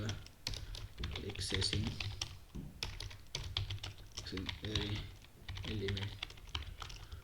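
Code is typed on a computer keyboard in steady bursts of quick, close key clicks, running under a man's intermittent speech.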